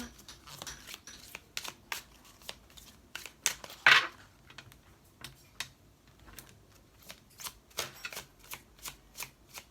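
Tarot cards are shuffled up close: quick riffling bursts and crisp card slaps repeat in an uneven rhythm, fairly quiet, with no talking.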